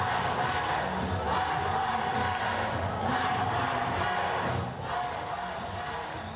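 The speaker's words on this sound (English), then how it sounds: "Mr. Bush did not respond to the chants" Black Lives Matter protesters chanting at a Bush campaign event, a dense, loud crowd roar of voices rising and falling in waves.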